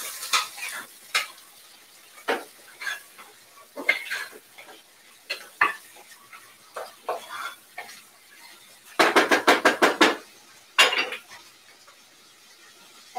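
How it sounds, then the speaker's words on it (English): Chicken and onions are stirred in a cooking pot: repeated spoon scrapes and knocks in an uneven rhythm, then a quick burst of rapid clatters and a final knock, with a faint sizzle underneath. "Give it a good stir."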